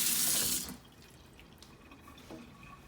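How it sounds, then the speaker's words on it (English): Hands washed with foam soap under a running tap: a loud rush of faucet water for about half a second, then it stops, leaving faint drips and quiet splashes at a sink. "go ahead and wash your hands"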